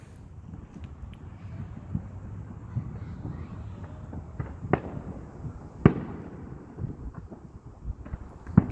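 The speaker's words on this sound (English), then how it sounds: "I'm trying to see if there's any fireworks." Fourth of July fireworks going off in the distance: scattered dull booms and sharp cracks at irregular intervals over a steady wind-like rumble, a few bursts louder and nearer than the rest.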